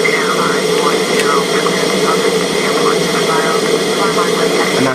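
Airliner jet engines whine steadily during pushback in Flight Simulator X, a continuous loud drone with a broad rumbling hum and higher tonal bands, while a voice speaks over it.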